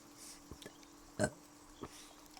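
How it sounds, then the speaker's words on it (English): A single short, soft burp near the middle of a quiet stretch, with a few faint clicks around it and no talking. "Here's a little burp on the way out."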